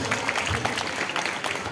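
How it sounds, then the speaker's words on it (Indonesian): Audience clapping for a puppet at a school Ramadan storytelling event, a steady, dense wash of many hands close by, continuous and fairly loud through the short stretch. "Tepuk tangan dulu untuk boneka aku."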